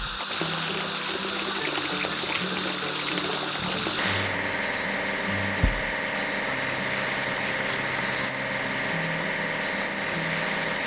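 A locomotive gets washed in a children's train station repair video game, with a continuous water-spray hiss and a low mechanical hum under it and a single soft thud near the middle, and no one talking.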